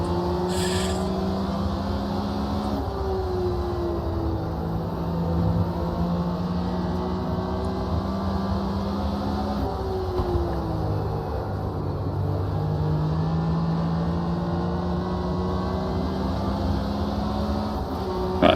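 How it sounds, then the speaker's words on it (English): Race car engines from Automobilista 2, a Porsche 911 RSR at Watkins Glen GP, droning loud and steady with rising and falling pitch as gears shift, nearby cars' engines mixed in throughout. "I hear engines in my ears that aren't my own."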